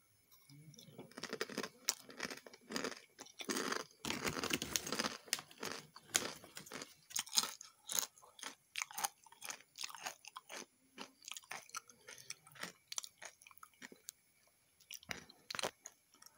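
Crunchy spicy Bon Cabe macaroni snack, level 15 crispy variety, chewed close to the mic: dense, irregular crackling bites and munching crunches repeating steadily through the whole stretch, with no talking.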